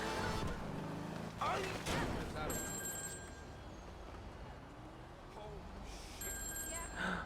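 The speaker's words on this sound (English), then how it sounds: "Can I answer this fucking phone?" A phone rings in Grand Theft Auto V, two bursts of electronic ringing over loud game action with gunfire-like bangs, and a player is heard speaking.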